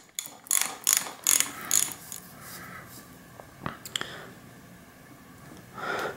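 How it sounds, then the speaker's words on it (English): A ratchet clicks in quick rapid bursts as a 24 mm six-point socket unscrews the top caps on a Manitou Magnum bicycle suspension fork, close and crisp, followed by softer metallic handling noises. "I'm going to use a 24 millimeter 6-point socket and go ahead and just unscrew these."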